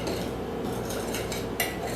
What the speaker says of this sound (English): now we need to stir.